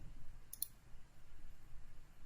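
A single quick computer mouse click, faint and close, during work in civil design software, set against a quiet low hum.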